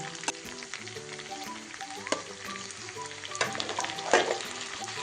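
Chicken and onion frying together in a pan for Kashmiri chicken kanti, a steady sizzle with occasional scrape and clatter of stirring, close and continuous with no talking.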